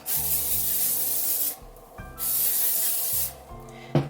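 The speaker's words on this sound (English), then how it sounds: "I'm just going to spray a little bit in." Two long hissing sprays from an aerosol can of hairspray, each about one and a half seconds, close by with a short pause between them.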